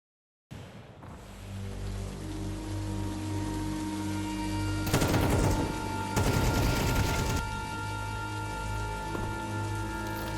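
Steady rain pours through the city streets of a Counter-Strike map, a dense, continuous hiss that lasts throughout, with two louder surging bursts midway, like heavier gusts or rumbling booms, before settling back to the even downpour.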